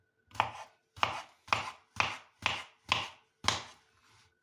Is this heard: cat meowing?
no